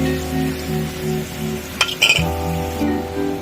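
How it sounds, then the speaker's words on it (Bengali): A fish curry gravy with mustard-poppy paste bubbles and sizzles in a pan, joined by a few sharp metallic clinks of a utensil against the pot over a steady background hum. "ঝোলটা ফুটে গেছে"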